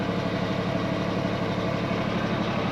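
Steady low hum of a small electric motor running continuously, even and unbroken in cold weather, with no talk over it.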